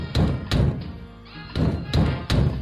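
Hard fist pounding on a wooden door in a radio drama sound effect, two bursts of heavy thumping knocks separated by a short pause, close and loud.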